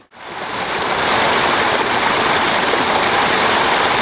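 Rushing water from a garden waterfall pours continuously, a loud, full splashing flow of about 10,000 gallons per hour with no pauses.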